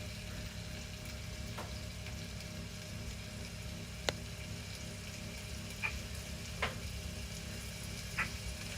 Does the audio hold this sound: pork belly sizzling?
yes